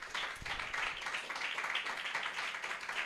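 A church congregation clapping their hands during a worship service, producing a brisk, continuous patter of many hands that stays fairly even for a few seconds.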